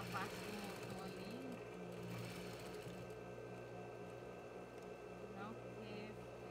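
An overlock sewing machine motor hums steadily at low level, a thin continuous whir with faint background voices.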